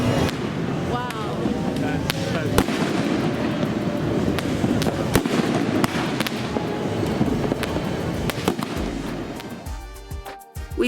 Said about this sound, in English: We watched the fireworks light up the sky, a lovely end to our time in Chiang Mai.